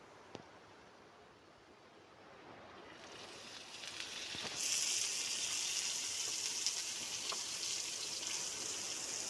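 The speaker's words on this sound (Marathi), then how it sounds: "चला आता कांदा बऱ्यापैकी करपलेला आपण त्याच्यामध्ये आता तेल ओतून घेऊ" Well-charred onion in a tavli pan, hushed at first, then bursting into a brighter, louder sizzle as oil is poured in, frying steadily to the end.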